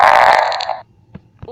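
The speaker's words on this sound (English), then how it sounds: "I'm gonna fart again." An app plays a fart sound effect: a loud, raspy, buzzing blast about a second long that cuts off abruptly, followed by two short, faint squeaks.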